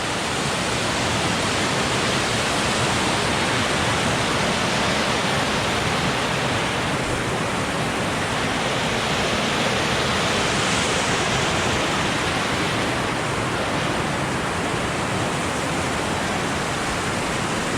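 A swollen creek runs rapid after heavy rain, normally a trickle of clear water, now a steady full rush of broadband water noise spilling over a small cascade, constant and close throughout with no talk.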